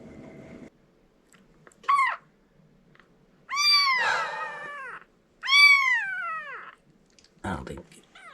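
A sick kitten gives a few strained, rising-and-falling cries with throaty gurgles between them, close and fairly quiet, separated by short silences, with brief low rustling noises.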